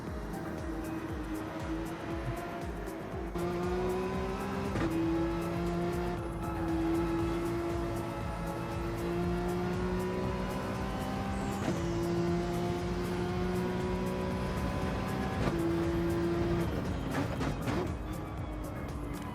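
From onboard, a Porsche Cup race car laps a circuit in Spain, its engine whining continuously and loudly with regular upshifts and downshifts stepping the pitch, and faint tire noise, with no talking.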